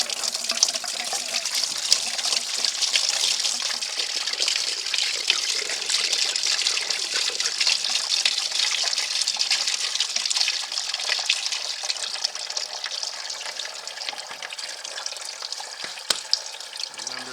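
Coolant drains and splashes steadily from a disconnected cooling hose on a Can-Am Outlander ATV. The flow is a close, continuous hissing trickle that lasts the whole time, with no one talking.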